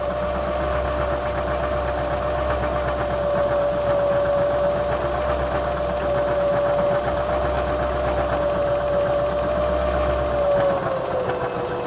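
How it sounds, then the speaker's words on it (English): A Baby Lock Zeal sewing machine stitches a straight row of channel quilting, a continuous close whirring hum with a steady motor whine that runs unbroken for several seconds before slowing at the end. "Place that guide on the last row of stitching, the last row that I stitched, and stitch down to the end."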